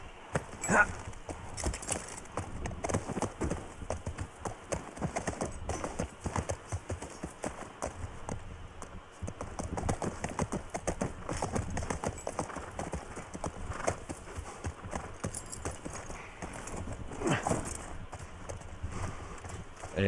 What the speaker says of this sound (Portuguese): Olha o cavalo.